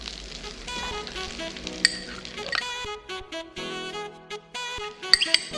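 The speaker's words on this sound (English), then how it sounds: "Saute the garlic" Finely chopped garlic cloves sauté in about two tablespoons of butter, giving a soft sizzle with clinks of a utensil against the pan and a few sharp taps.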